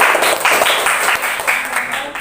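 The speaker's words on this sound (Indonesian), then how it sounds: "Beri tepuk tangan untuk kelompok 3" A classroom of students claps for a group in a loud, close, fairly rhythmic burst of applause filling the whole short stretch, with voices faintly mixed in.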